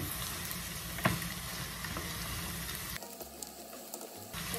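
Steady, close sizzling of food frying in a pan, dense and continuous with a small clatter near the start and a quieter spell toward the end.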